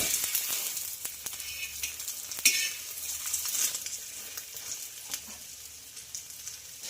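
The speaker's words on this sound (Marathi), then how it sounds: "तर अशाच पद्धतीने आपण छानपैकी दोन्ही साइड ब्रेड भाजून घेणार आहोत।" Egg-coated bread toasts on both sides in a pan, a soft continuous frying sizzle close by, with occasional faint scrapes and taps of a utensil.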